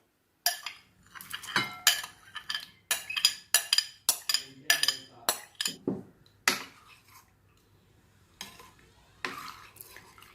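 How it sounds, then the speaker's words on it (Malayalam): Chopped mango pieces dropped into a dessert bowl, a quick run of sharp clinks and soft thuds from spoon against bowl, close and clear, then a pause before a few final taps. "അപ്പോൾ ഈ മാങ്ങ കട്ട് ചെയ്തത് നമുക്കിതിലേക്ക് ഇട്ട് കൊടുക്കാം."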